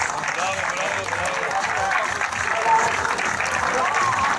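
A crowd claps at a 3x3 basketball championship trophy ceremony in Çanakkale, a continuous ripple of applause with voices speaking over it throughout.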